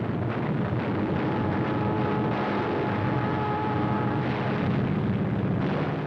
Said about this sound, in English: The planes take off on a daring battle mission to blast Jap bases